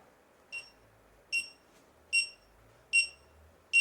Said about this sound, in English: So it'll start beeping to find it.